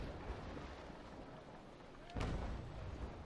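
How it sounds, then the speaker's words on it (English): A single cannon shot from a sailing warship in Naval Action, one sudden heavy boom rising out of low rumbling sea and wind ambience, fairly distant and faint. "A couple of guns still loaded. Let's fire those"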